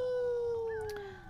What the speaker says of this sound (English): And we shall do a terrifying howl.